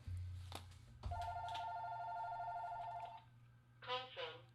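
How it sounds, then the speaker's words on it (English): Landline phone ringing in a room, a sustained electronic ring tone of about two seconds followed by a short chirp, with faint speech-like sounds around it. "that's called a landline phone"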